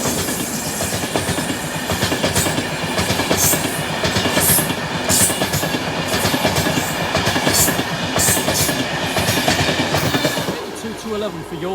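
Flying Scotsman steam train passing Moat Hills level crossing, a loud close rumble with rhythmic clickety-clack of wheels over rail joints and occasional squeal and hiss, sustained throughout and easing off at the end.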